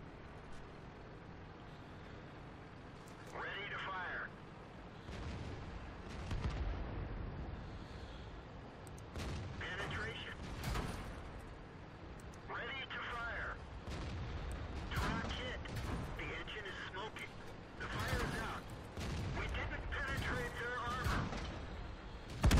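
Tank cannon shots in World of Tanks, a vehicle being struck repeatedly: a string of heavy booms and impact bursts at irregular intervals over low engine rumble, with someone talking between them.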